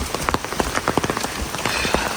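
Heavy rain pours down during a cloudburst in Shimla, loud and close, with dense drops pattering hard on a nearby surface in a constant, uneven drumming and no voices.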